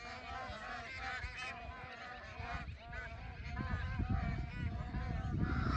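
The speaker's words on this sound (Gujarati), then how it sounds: "પક્ષીઓ જોવો કેવા સરસ મજાના ઉડે છે કુંજડા છે કુંજડા" A flock of demoiselle cranes calls overhead at a lake island campsite, dense overlapping trumpeting that continues without pause and grows slightly louder, with faint voices underneath.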